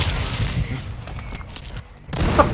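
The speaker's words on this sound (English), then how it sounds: "That frag did get me?" A frag grenade goes off in Call of Duty: Modern Warfare II, a deep booming blast with low rumble that fades, followed by a fresh burst of gunfire-like noise near the end.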